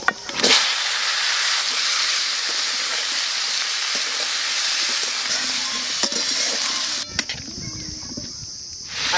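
Pumpkin frying in hot oil with bay leaves, chilli and five-spice seeds in a rural kitchen, a loud, close, continuous sizzling hiss that fades into quieter crackles and stirring near the end.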